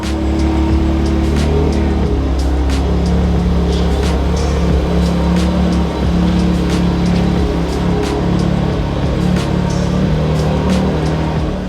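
An Audi S3 with a newly fitted front lip drives off its stands, its engine giving a loud, steady low drone close by. Light ticking and rattling runs on top throughout, and no talking is heard.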